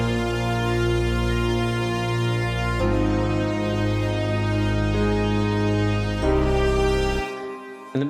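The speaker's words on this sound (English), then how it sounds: "We do all of our synths together during this part. It sounds like this." Layered EDM remix synths sustain together in thick, bright chords that shift at a couple of points, loud and steady for about seven seconds before cutting off near the end.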